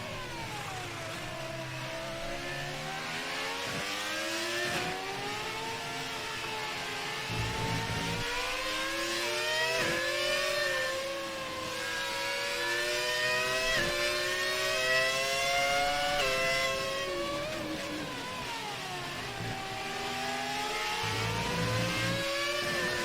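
Formula 1 cars in the video game F1 2019 race with continuous engine whine that rises and falls through gear changes and corners, loud and steady for the whole stretch, with no talk over it.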